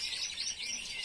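Small cage birds chirping and twittering inside a wooden cage, a steady, fairly faint stream of high chirps with no talking.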